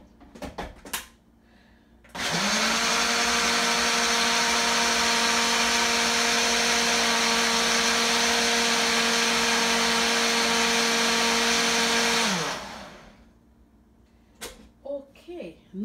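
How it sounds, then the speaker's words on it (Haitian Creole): A blender whirs parsley, thyme, hot pepper and sweet pepper for a marinade. After a few brief knocks it starts, holds a loud, steady whine for about ten seconds, then winds down, followed by scattered small noises. "Ça que nous blender c'est persil, thym, piment piqué, un petit piment douce."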